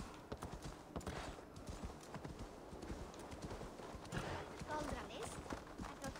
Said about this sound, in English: I think we can call the horse.